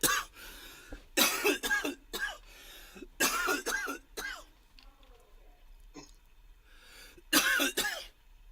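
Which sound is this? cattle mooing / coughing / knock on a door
coughing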